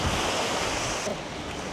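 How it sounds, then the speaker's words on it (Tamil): Strong wind gusting over a sea shore with surf breaking, a loud continuous roar that buffets the microphone throughout. "அவ்வளோ காற்றடிக்குது"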